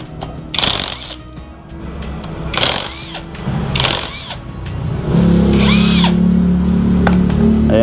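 A power tool removes the 10 mm impeller screws on a Honda Click 150i scooter during a top overhaul. Short loud whirring bursts come near, then settle into a sustained steady motor drone.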